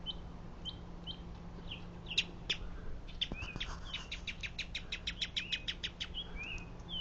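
Small bird chirping beside a newly installed wireless customer antenna outdoors: scattered high tweets at first, then a quick, steady run of repeated chirps over faint background hum, with no talking.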